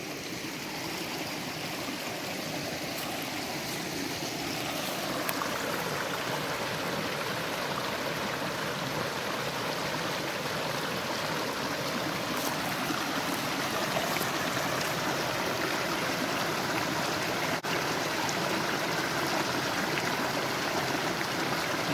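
A forest stream flows steadily nearby, a dense, even rush and gurgle of water that stays constant and fairly loud throughout, with no voices.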